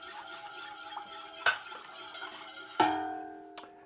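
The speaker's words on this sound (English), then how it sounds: "So notice how I'm whisking this around." Wire whisk stirring a flour roux around a cooking pot for chicken and andouille sausage gumbo, a steady scraping swirl with occasional sharper clinks against the pot's sides, fairly quiet and close.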